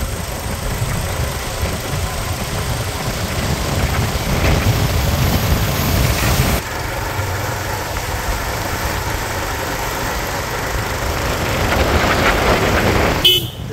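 Motorcycle ridden along a rain-wet village road, a continuous engine drone with wind noise and a brief horn toot near the end, no talking.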